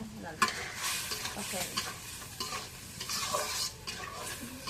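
New potatoes and leafy greens with spices are stirred and fried together in a pan, producing a close, continuous sizzle overlaid with frequent scraping and stirring strokes of a spatula.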